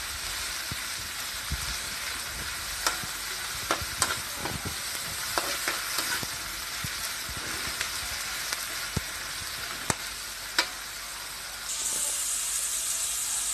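Tomatoes sautéing in a pan for tilapia afritada, a steady sizzling hiss broken by sharp clicks and scrapes of stirring, with a louder burst of frying near the end; no one speaks.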